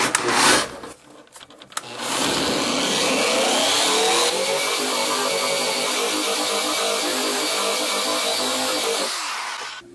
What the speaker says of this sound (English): the next step is going to be this beast, the Contour SCT with a finishing drum